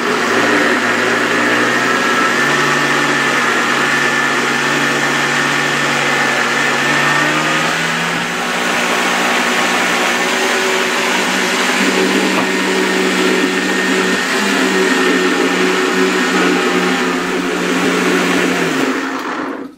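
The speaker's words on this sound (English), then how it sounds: "This is the Versa blender. I'm just going to start it slowly." A Versa blender motor whirs loudly nearby as it blends sticky soy lecithin for vegan butter, its pitch climbing slowly as it speeds up, then holding a steady roar before cutting off.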